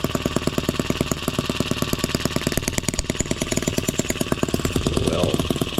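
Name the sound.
M25 sideshaft engine running roughly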